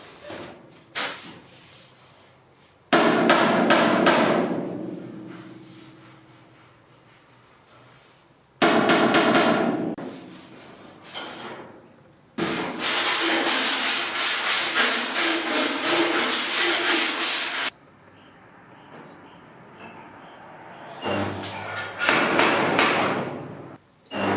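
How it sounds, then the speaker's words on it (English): Hand filing on the steel roof panel of a Ford TF Cortina during panel beating: bursts of coarse rasping strokes, repeated in several separate sessions with brief pauses between, close and fairly loud, with no talking. "give it a little bit more filing and see if the dent's any bigger"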